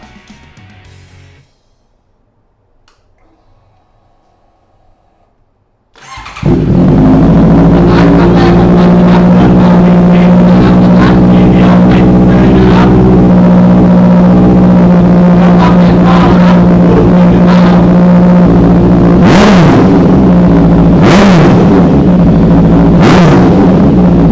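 A Honda CBR650F four-cylinder motorcycle with an aftermarket exhaust fires up after a quiet few seconds, then idles loudly and close with a steady rumble before several sharp revs near the end.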